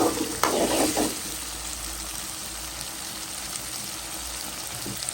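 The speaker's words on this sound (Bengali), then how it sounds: "এলাচ আর লং ভাজা হতে থাক।" Bay leaves, cinnamon, cardamom, cloves and a little ginger garlic paste frying in oil for beef liver curry, a steady close sizzle with a burst of stirring at the start.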